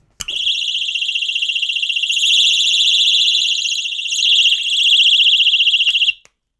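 A Birdie personal safety alarm shrieks close and very loud, a piercing warbling electronic siren that runs continuously for about six seconds before cutting off abruptly.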